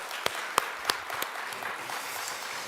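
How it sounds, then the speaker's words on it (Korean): A church congregation at a Friday prayer service claps together, a steady wash of applause with a few sharper hand claps standing out near the start, then settling into even, moderately loud clapping. "박수 한번 할까요?"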